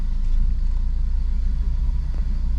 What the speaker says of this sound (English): So I'll put us in drive, and we'll just go around the block here.